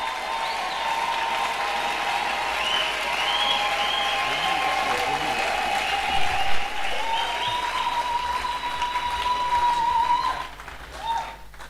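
A Sunday church congregation applauding and cheering, sustained dense clapping with voices raised over it, a loud tonal wail running through, easing off near the end.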